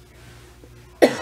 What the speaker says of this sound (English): I'm fighting a cough.